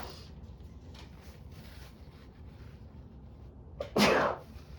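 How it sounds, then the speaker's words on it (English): A single loud sneeze bursts out near the end, close by, after several seconds of quiet room noise. "I'm gonna sneeze, gosh darn it."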